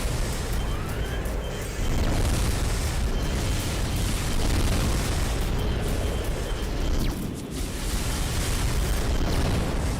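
Missiles firing and exploding in the mech combat game Armored Core 2: Another Age, a dense, continuous roar of blasts and booms, loud and close, with rumbling bursts layered over each other and no speech.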